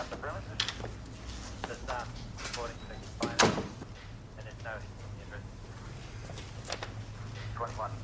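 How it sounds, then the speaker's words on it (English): A door closing in an Australian police office, a single sharp thud midway through quiet room tone, with talk before and after. "And close the door."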